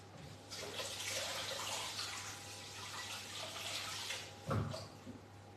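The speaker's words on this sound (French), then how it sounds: "je vais aller laver ma mini spatule" Tap water runs steadily into a sink as a mini spatula gets rinsed, a close, even splashing stream with a brief louder splash near the end.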